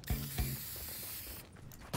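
A spray emote in a multiplayer battle-royale video game gives two quick mechanical clicks and then a sustained hissing spray burst that fades near the end, fairly faint and with no talk.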